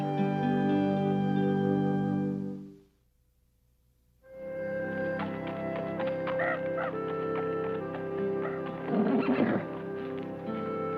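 A horse whinnies loudly, then after a brief silence hooves clip-clop steadily with another neigh rising near the end.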